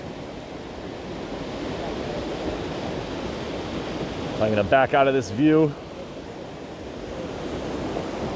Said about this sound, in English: Water just splashing off the rocks below.